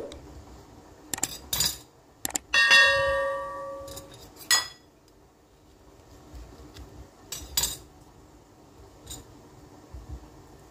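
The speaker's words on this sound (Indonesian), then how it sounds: "ini pisangnya akan saya potong-potong dan akan saya cuci ya" A knife clicks and clanks against a dish or pot while pisang uli bananas are cut up and rinsed, giving a few sharp metallic clinks and rattles followed by quieter handling noises.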